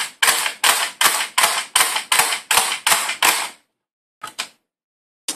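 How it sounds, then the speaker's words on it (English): A speed loader clicks .22 LR rounds into a Smith & Wesson M&P 15-22 magazine in a quick run of about nine evenly spaced sharp clacks, then a couple of later clicks, close and crisp with no speech. "Release it, fully load the magazine real quick."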